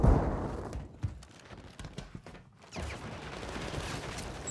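A flash grenade goes off in a shooter video game: a loud, close burst at the start, followed by scattered gunfire pops and rumbling.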